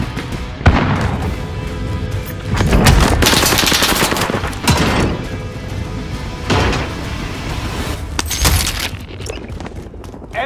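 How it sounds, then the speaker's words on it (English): Gunfire from the game Call of Duty Warzone: repeated loud shots and bursts crack out at irregular intervals across a busy battle mix, with some rapid volleys and no clear talk. "Taking fire!"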